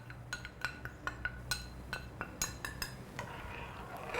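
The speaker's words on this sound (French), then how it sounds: "Les lentilles, je les mélange bien" A spoon stirs lentils with curry and saffron in a pot for Tamil tarka dal, giving a run of light metallic clinks and scrapes at an uneven rhythm, close and moderately loud, with no talking.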